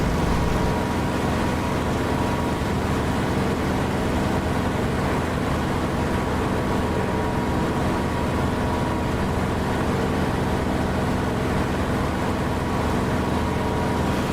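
Steady, loud broadband engine drone of an aircraft in the DCS flight simulator game, a continuous even roar filling the whole stretch with no variation or other sounds.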